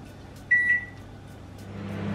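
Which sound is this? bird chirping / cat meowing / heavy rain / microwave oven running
microwave oven running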